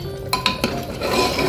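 Potatoes and masala being stirred in a pressure cooker pot for a Hyderabadi drumstick and meat shorva, a spoon scraping and clinking against the metal in a few sharp knocks over a steady close stir, with no talking.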